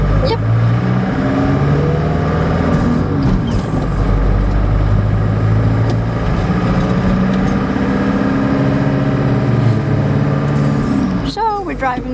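A car driving toward the freeway, its engine hum and road noise steady and close throughout, with people talking over it inside the cabin.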